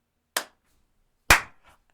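Two sharp hand claps ring out alone in a quiet room, the first a touch lighter, the second louder with a brief fading tail.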